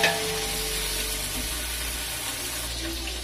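Ginger garlic paste fries for chicken biryani, a steady, broadband sizzle with a watery hiss that runs evenly and fairly loud throughout, with no voices.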